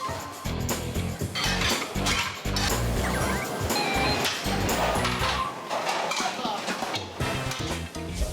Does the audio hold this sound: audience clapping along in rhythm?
no